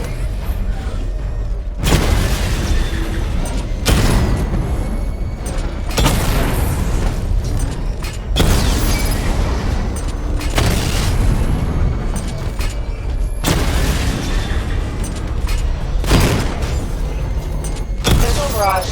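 Heavy explosions from a missile barrage in the PC video game Batman Arkham Knight, rumbling in a dense series of loud, broad blasts that keep coming with little pause, overlapped by game voice announcements.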